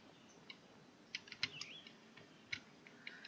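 Light, sparse computer keyboard keystrokes tapping quietly in irregular clicks, faint and near, with a few soft chirpy tones in the background and no talking.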